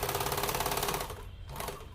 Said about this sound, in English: We are going to end also with the back stitch.